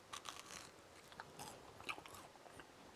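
Someone bites into crunchy homemade french fries close to the microphone, several sharp crisp crunches and chewing sounds in quick bursts over a quiet background.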